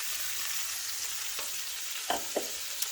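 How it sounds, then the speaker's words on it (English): Bean sprouts and asparagus sauté in a hot pan, a continuous soft sizzle with a few sharp clinks and stirring scrapes near the end, no voices. "So now we'll saute that all up and add the bean sprouts and then the sauce."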